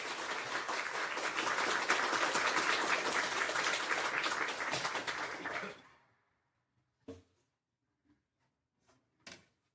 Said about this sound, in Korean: 우리 큰 박수로 맞아주시기 바랍니다.